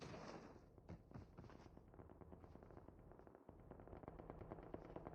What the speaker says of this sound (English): I hear a lot of shots.